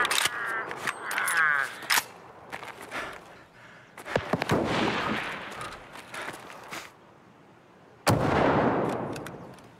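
Sharp gunshots crack in Escape from Tarkov, single reports and short bursts scattered across the stretch, some loud and close, others trailing into echoes, with a final heavy blast near the end.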